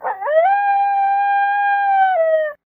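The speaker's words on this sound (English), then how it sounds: "There it was again, a howling." A long wolf-like howl, as from a werewolf, rises in pitch, then holds a steady tone for over two seconds before dipping and fading. It is close, loud and clear, with no talk over it.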